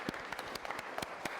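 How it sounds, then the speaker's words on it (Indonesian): A class applauding quiz results during a teaching session, with faint, sparse individual claps at an uneven rhythm, heard at a distance. "tepuk tangan semuanya"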